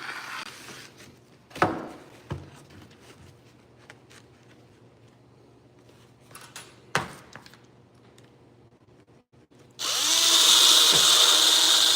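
A few sharp knocks and clanks in a quiet shop, then a power drill whines loudly and steadily, cutting a hole into a metal part at close range.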